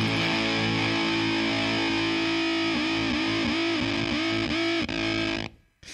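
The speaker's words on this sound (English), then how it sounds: "it's a gated sort of fuzz or distortion" Electro-Faustus guitar effects pedal set to gated fuzz distortion with the flux control fully down, playing a loud sustained distorted guitar chord with wavering notes, then cutting off abruptly at the end.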